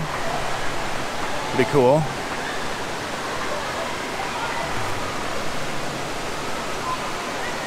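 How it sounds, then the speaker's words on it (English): Rushing water from the lazy river at an indoor hotel water park pours in a steady, loud wash that fills the space, with someone speaking briefly over it. "here we got the lazy river"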